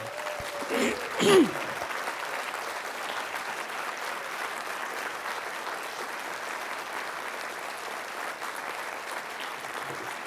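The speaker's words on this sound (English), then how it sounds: "Would you give a round of applause for the heroes of 9/11?" A large audience at an awards keynote gives a sustained round of applause lasting about ten seconds, with a couple of brief louder bursts near the start.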